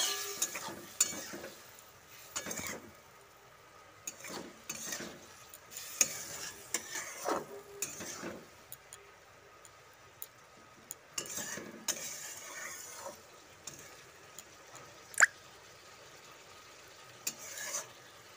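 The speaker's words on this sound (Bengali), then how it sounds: "জল দিয়ে একটুখানি নাড়াচাড়া করে নেব।" Okra is stirred in a pan with a little water, producing irregular scraping and clinking of a utensil against the pan, along with faint sizzling between the strokes. The sounds are close and intermittent, with quiet gaps between them.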